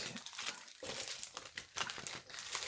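Crinkly foil booster packs of Magical Hero Legendary Duelist trading cards are shuffled by hand, giving a continuous close crackle and crumple with sharper crinkles, and no voice over it.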